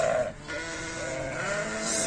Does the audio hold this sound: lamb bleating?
yes